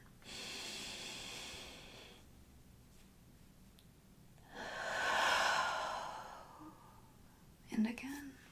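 A woman whispers during a calm yoga stretch while deep, slow breaths flow in and out, soft and close, with one long airy exhale audible before a brief faint sound at the end.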